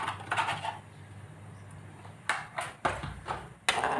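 A spoon scrapes and clinks against a pan while chili, turmeric and cumin powder are stirred into a curry, giving a quiet stretch followed by several sharp, close knocks and scrapes.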